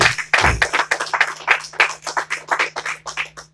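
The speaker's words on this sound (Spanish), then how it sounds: "Denle un aplauso fuerte a Jesucristo." Congregation in a church clapping together in a steady, rhythmic beat, loud and close, with no talking over it.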